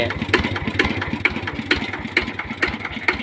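An RT110 engine with a standard injector runs unevenly, labouring as it draws water. It beats out a regular, throbbing chug of evenly spaced knocking pulses, close by and fairly loud.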